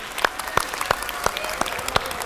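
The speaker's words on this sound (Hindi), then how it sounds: "दोनों के लिए बहुत सारी तालियां होनी चाहिए।" A game show studio audience applauds, a light wash of clapping with a few sharp, louder claps standing out at a regular pace, heard at moderate distance.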